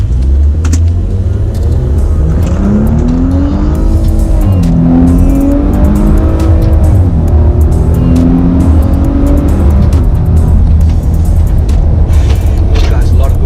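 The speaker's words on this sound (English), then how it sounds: "the exhaust note has changed" A deep, loud Maserati Levante SUV exhaust in sport mode, rumbling and revving steadily in the desert, with rising engine pitch sweeps and crackles throughout.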